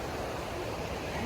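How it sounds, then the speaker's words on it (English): A broad, steady roar of falling water from a waterfall on a cold, wet walk in wild weather, continuous and fairly loud with no break. "there's a beautiful waterfall"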